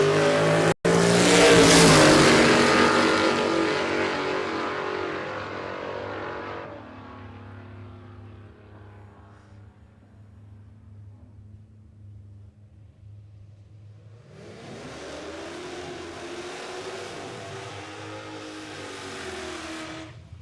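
An LC Torana drag car launches at a no-prep drag strip with a loud, close engine roar that fades into the distance, then another engine swells in again toward the end.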